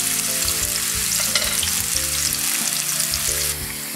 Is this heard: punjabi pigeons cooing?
no